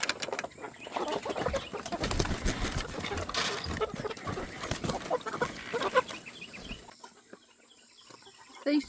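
Chickens in a chicken tractor on fresh grass cluck and scratch close by, with busy irregular bursts of clucking and rustling that thin out near the end.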